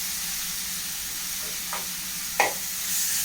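Mushrooms fry in a pan with a soft, steady sizzle and hiss, broken by a couple of brief sharper crackles or stirring clinks near the end.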